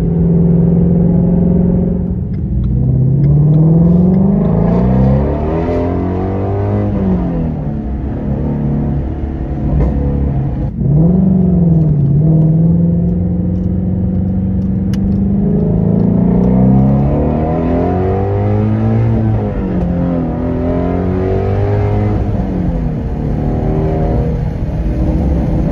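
A Ford Shelby GT350 with the 5.2L Voodoo V8 on the road, its engine rising and falling through repeated revving pulls and shifts, loud and close, with no talking.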